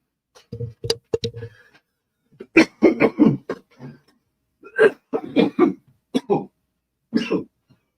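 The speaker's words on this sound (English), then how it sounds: "felt like a cough was coming on again" A few sharp coughs and throat clearing up close, followed by stretches of someone talking.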